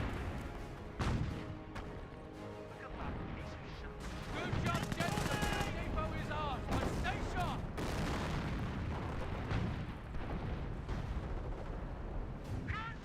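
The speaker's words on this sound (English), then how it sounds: "Here's some sort of artillery barrage somewhere." A creeping artillery barrage in Company of Heroes rumbles on for the whole stretch, dense overlapping booms and gunfire swelling louder midway and staying heavy to the end, with a commentator talking over it throughout.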